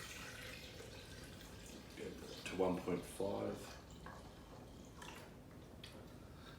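Water pours into a blender holding frozen almond concentrate for almond milk, a short gurgling splash of a few seconds, fairly faint, with a soft voice speaking at the end.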